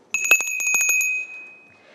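A historic hand bell rung in a state Senate chamber, a quick cluster of about eight bright metallic strikes over roughly a second, loud and close, then a clear ringing tone fading away with no voices over it.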